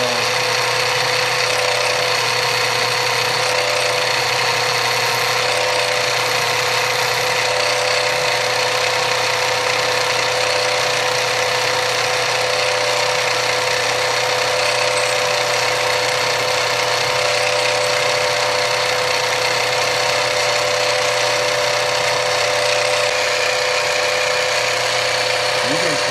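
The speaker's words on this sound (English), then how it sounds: "You need to start slowly so your drill centers itself." A drill bores into a large chrysocolla bead with a steady, loud mechanical whine and a constant hum that runs unbroken for nearly half a minute.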